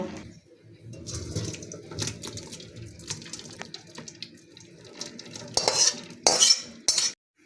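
Boiled taro leaves are strained in a home kitchen, with wet sloshing, water splashes and clinks of utensils and metal bowls. The sounds are close, irregular and moderately loud, with sharper bursts of clatter toward the end.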